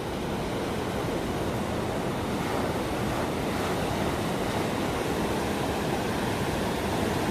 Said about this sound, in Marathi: समुद्राने कडक वातावरण केलेलं आहे लाटाच इतके उंच आहेत